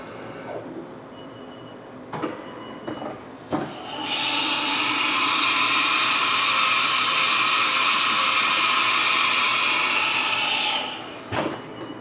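A CNC mill swaps to its second tool during setup for a boring bar job, with a few short mechanical clicks and knocks before a loud, steady high-pitched whir that runs for about seven seconds and then cuts off.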